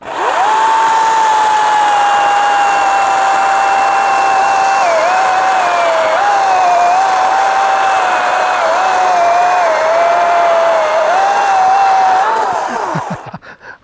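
Milwaukee 18V cordless top-handle chainsaw, running on its supplied 5A battery, cuts through a thick tree trunk with a loud, steady high-pitched whine that dips slightly as the chain bites, then winds down at the end.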